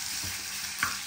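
Pork belly and cooked radish frying dry in a pan make a soft, continuous hiss, with a couple of brief stirring knocks and a small crackle near the end.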